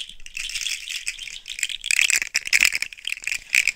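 Plastic articulated slug fidget toy rattling as its segments shift, a dry, rapid clicking clatter close up, continuous and growing busier partway through, with no talking.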